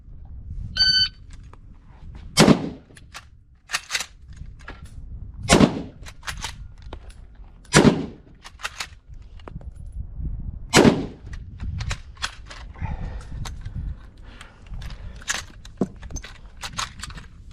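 A Mosin M91 rifle fires five loud, sharp shots at 25 yards, spaced a few seconds apart, with bolt clacks and metallic handling noises in between.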